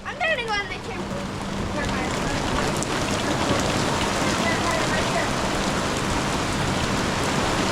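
Heavy rain pours down in a summer storm with strong wind, a dense steady roar that swells after the first second and stays loud throughout, with a voice speaking briefly at the start.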